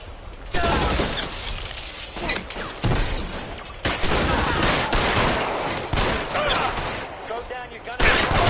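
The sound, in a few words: gunfire in a police shootout in video game L.A. Noire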